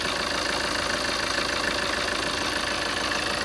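Used car engine idling steadily with no knocking or tappet ticking, a constant close hum running evenly throughout with no voices.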